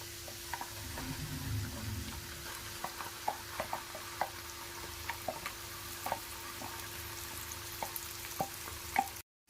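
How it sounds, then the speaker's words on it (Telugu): Ground paste for a mushroom curry fries in a pan with a steady sizzling hiss, while a spoon stirs and scrapes in regular clicks close by. "అదంతా దీంట్లోకి వేసుకొని ఫ్రై చేసుకోవాలి బాగా"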